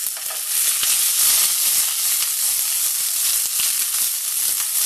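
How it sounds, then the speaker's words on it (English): Green beans fry in garlic-flavoured oil in a pan, giving a loud, dense, continuous sizzle with crackling hiss throughout and no talking. "now we're going to get our green beans into the pan"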